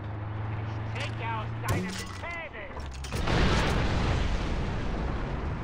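A grenade detonates in the video game Far Cry 4 with a loud, sustained rumbling blast, preceded by sharper mechanical game effects and a voice talking.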